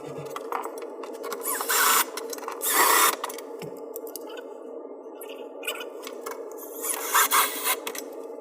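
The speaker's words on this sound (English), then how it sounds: "we can attach the bracket to the wall using the provided bolts" Bolts are driven through a TV wall mount bracket into the wall, heard as close scraping, rasping turns with short bursts of louder grinding and friction in an otherwise quiet room.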